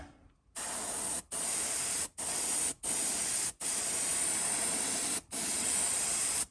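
A spray paint can hisses onto a fishing lure in several sustained bursts separated by short pauses, loud and close.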